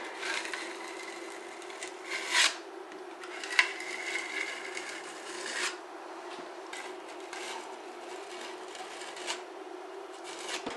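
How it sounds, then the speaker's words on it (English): A spreader scrapes excess body filler off damaged car paintwork in a series of soft, rasping strokes with occasional sharper scuffs, close and fairly quiet, with no speech. "Scrape away the excess filler because I don't want to have to sand down any more than I need to."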